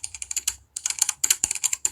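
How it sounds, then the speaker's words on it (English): Rapid keyboard typing clicks from a typing sound effect made in the CapCut editor, two quick bursts of crisp, close key taps separated by a brief pause, with no voices. "create typing effect in CAPCUT"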